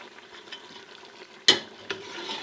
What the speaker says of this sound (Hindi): अब इसकी हम अच्छे से भुनाई करेंगे